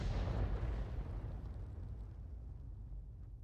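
A Bat.-Châtillon 155 58 artillery gun fires a shell in a video game: one heavy, booming blast right up close that trails off into a long rumbling decay.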